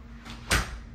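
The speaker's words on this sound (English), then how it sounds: "We open the door and we're greeted with a small entryway" Front door of a corner-lot house in Encino Park swinging open: one short, fairly close thump-and-rush around midway through, over a quiet indoor background.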